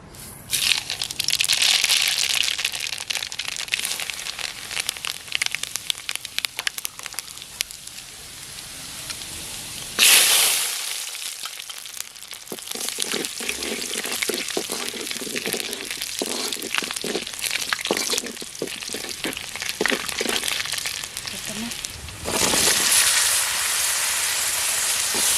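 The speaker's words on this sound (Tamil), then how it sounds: "இந்த டைமில் தாளிக்கிறதுக்கு ஒரு 1/2 ஸ்பூன் கடுகு, ஒரு 1/2 ஸ்பூன் வெந்தயம், ஒரே ஒரு ஸ்பூன் வடகம்" Mustard seeds, fenugreek and vadagam fry in hot oil for a Tamil fish curry, giving a continuous crackling sizzle with dense popping that briefly drops and then surges back louder at two points.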